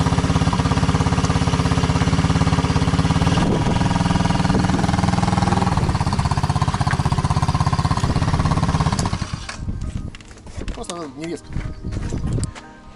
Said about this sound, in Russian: Ну вот я квадроцикл привез